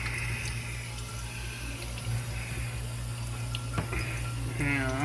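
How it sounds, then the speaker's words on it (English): Water runs from a kitchen tap over freshly cleaned squid, a steady close stream with small splashes and shifting flow toward the end, with no talking. "Now you rinse that with water."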